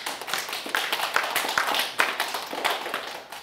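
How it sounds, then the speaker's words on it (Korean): Scattered claps and taps from a small audience, uneven and not sustained, more a brief patter of clapping than full applause. "박수 안 치십니까?"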